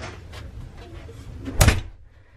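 A cruise ship stateroom door on the Disney Dream swings shut with a single solid thud near the end, heard close against a quiet room background.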